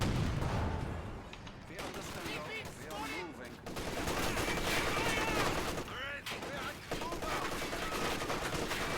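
MG42 machine gun fire in Company of Heroes 2, a Wehrmacht versus US multiplayer battle, rattles in dense bursts amid other gunfire and explosions, loud and continuous.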